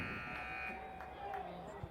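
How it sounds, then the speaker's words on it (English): A sustained electronic shot clock buzzer sounds for under a second over a noisy crowd at a men's lacrosse game, then fades into continuing arena chatter and commentary. "as the buzzer sounds on the shot clock"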